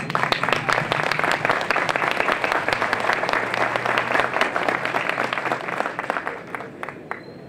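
An audience at a government minister's speech applauds steadily, dense clapping from many hands filling the room, tapering slightly toward the end.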